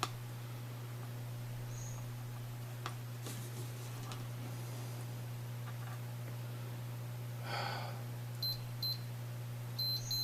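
A multimeter on continuity test gives several short, high electronic beeps near the end, preceded by faint clicks and probe taps over a steady low electrical hum; no one talks.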